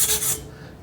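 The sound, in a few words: sanding steel bicycle frame with sandpaper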